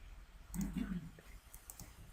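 A computer mouse button is double-clicked while an event handler is set up in C++Builder, the quick soft clicks close by and partly under a speaking voice in a quiet room.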